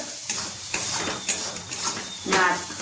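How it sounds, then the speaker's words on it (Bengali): Spices with garlic, turmeric and salt fry in hot oil, sizzling steadily while a utensil stirs and scrapes against the pan in several distinct strokes. "মশলাটা ভালো করে ভেজে নিতে হবে"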